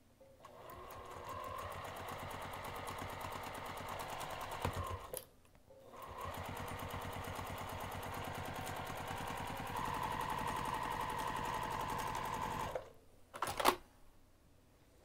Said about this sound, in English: let's take this over to the sewing machine